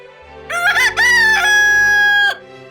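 A rooster crows once, loud and close, in a long drawn-out cock-a-doodle-doo with a rising start and a sustained, wavering final note, set against a quiet background.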